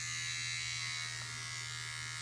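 A Remington DuraBlade electric shaver hums with a steady, close, constant buzz, running alone without any change in pitch.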